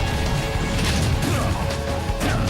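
A forward smash attack lands in Super Smash Bros., Snake against Bowser in a tournament match, giving a loud crashing impact with a sweeping whoosh, set against steady game and crowd noise.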